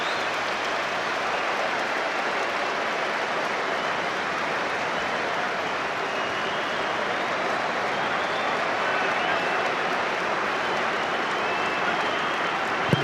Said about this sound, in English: round of applause for McGregor as he takes a corner on this side.